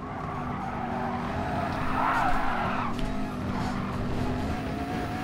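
Tyres squeal in a four-wheel slide in Gran Turismo Sport, the skid swelling in the middle under a steady race-car engine drone, all close and continuous without talk.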